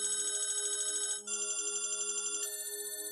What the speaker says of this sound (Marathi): रिंग गेली आमची